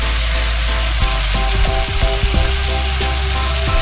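Cabbage and turnips tossed into a hot pan for a vegetable curry, a loud continuous sizzle with scraping and clanking of a spatula stirring close by.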